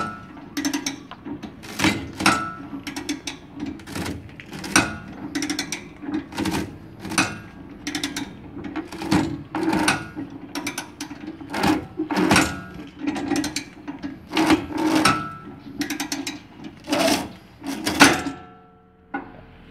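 Repeated clunking strikes come from a coconut-cutting machine mounted on a tricycle as its lever is pulled and the blade bites into a coconut, in an irregular series of sharp mechanical knocks and rattles at close range.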